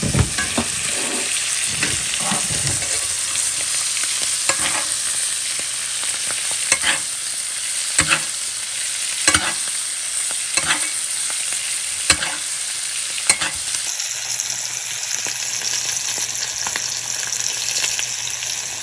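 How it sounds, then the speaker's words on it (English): Pork chops frying in a tilted pan while a big spoon bastes them, a loud continuous sizzle broken by repeated metallic scrapes and clicks of the spoon, with no speech. "tilt our pan. Start basting this goodness on this stuff"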